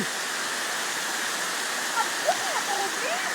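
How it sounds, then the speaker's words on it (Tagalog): Tabok Falls waterfall at Agbayang, a steady broadband rush of falling water filling the whole clip, with a few faint birdlike chirps or voices rising briefly near the end. "Makikita natin yon ang Tabok ng Falls dito sa Agbayang"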